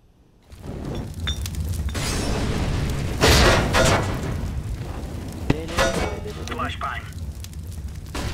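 Flashbang grenade going off in an online multiplayer shooter match: a sudden loud burst near the start, then a sustained bright ringing roar with crackling game noise while players talk over it.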